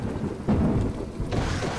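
Rain falling steadily with rumbles of thunder in the My Time At Portia video game, a continuous wash of rainfall with low swells of thunder.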